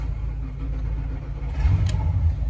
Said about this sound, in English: Dead cold start, fired right up.